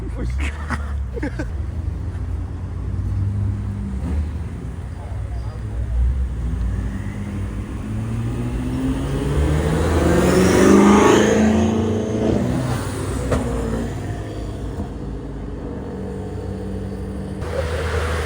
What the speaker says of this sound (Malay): M4 dan N6 dah start engine dah